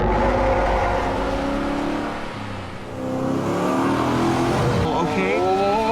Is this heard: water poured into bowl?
no